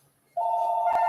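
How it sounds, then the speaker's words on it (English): A telephone starts ringing for an incoming call, a sudden steady electronic tone that holds unbroken, with a faint click partway through. "I got a phone call."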